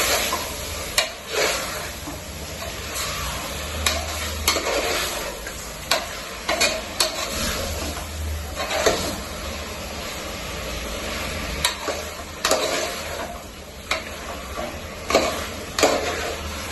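Chicken cooking in a spiced tempering for Mangalore-style kori rotti chicken saaru, with a continuous sizzle and repeated scraping, tapping stirs of a spoon against the pan, close and steady without talk.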